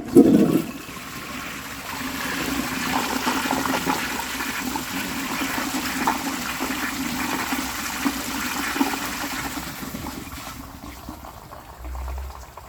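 A 1935 Standard Siacto toilet flushes a washcloth: a sharp opening burst gives way to a long rushing, gurgling drain, then refill water trickling softly toward the end, heard up close with no speech.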